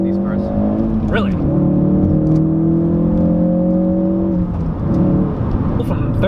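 A 2017 Ford Focus RS accelerating hard from inside the cabin: a loud, steady engine drone climbs in pitch, drops briefly at a gear change, then climbs again.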